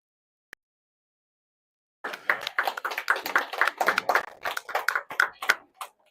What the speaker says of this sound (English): I think it's fair to say a round of applause to both.